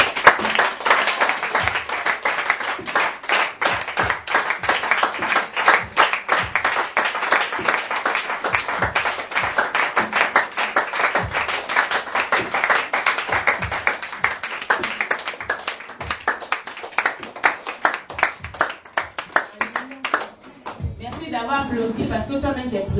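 A church congregation at Sunday worship claps in a fast, steady rhythm for about twenty seconds with voices acclaiming underneath, before the clapping thins out and a voice speaks near the end.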